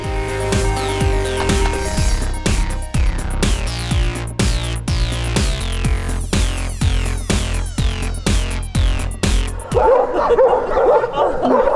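A pack of stray dogs barking at a mineral water pump room in Truskavets, Ukraine, in a quick run of sharp yips and barks over a busy tonal background, ending in a burst of noisy crowd-like sound.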